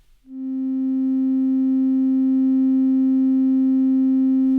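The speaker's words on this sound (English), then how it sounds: "Here is the graph and sound for a pure sine wave set to 262 hertz." A pure sine wave tone at 262 hertz rises in quickly after a short silence, then holds steady and loud for several seconds without any change in pitch.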